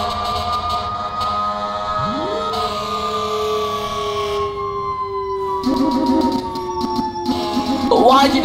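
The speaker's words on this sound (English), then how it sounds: "Alright, no more sirens." A fire engine siren in the EmergeNYC emergency response game, loud and close, its tones sliding steadily across the whole stretch with horn-like blasts and rumbling layered in, joined by more noise near the end.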